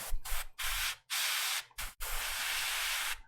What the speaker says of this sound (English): I'm just gently spraying it into my midtones here